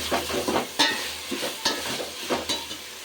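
Ginger paste frying lightly in a pan, a steady soft sizzle broken by several scraping stirs of a spatula, close by and with no voices.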